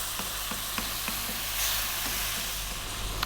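Tomatoes sizzle steadily in a hot pan while cooking down for an Indian shrimp curry, a continuous close frying hiss with a few soft stirring clicks and no talk.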